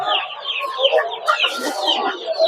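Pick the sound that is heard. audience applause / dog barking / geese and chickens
geese and chickens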